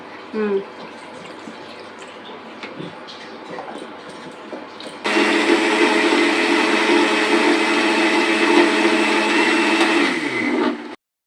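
A kitchen mixer grinder whirs loud and steady as it grinds a spice paste with water for a mutton dish, starting abruptly partway in and running continuously, with faint chatter before it kicks on.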